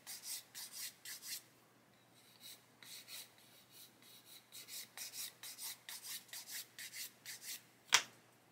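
A plastic model kit part is sanded by hand, giving a steady run of quiet rhythmic rasping strokes that pause briefly and then resume, ending with one sharper knock, with no talk.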